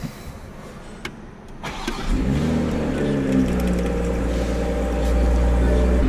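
A 2025 Toyota Supra engine starts and settles into a loud, steady close-up idle with a low rumble that swells slightly near the end; a voice is briefly heard.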